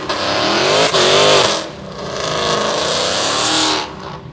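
A turbocharged drag race car making a full pass, its engine roaring loud and close with rising revs, a brief break, then another long climbing pull before it cuts off.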